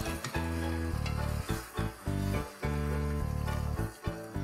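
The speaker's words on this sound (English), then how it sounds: "So I've added some of the pasta water that this was boiling in to my pot here" Pasta water hits a pot of creamy chicken mushroom sauce and is stirred, a close, loud sizzling and bubbling broken into short repeated bursts by stirring, with no talking.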